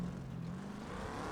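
A trophy truck engine drones steadily in BeamNG.drive off-road driving, a continuous mid-level hum with a faint harmonic tone holding through the short stretch, no voices.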